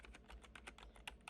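Rapid keystrokes on a Spirit of Gamer Pro K8 RGB semi-mechanical keyboard, a steady train of soft, close clicks and taps with a few sharper hits near the end, heard alone.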